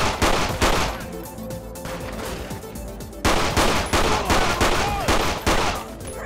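Rapid bursts of gunfire crack out in a Grand Theft Auto-based video game shootout near a pier and gas pumps, loud volleys separated by brief pauses, with overlapping shots and fusillades.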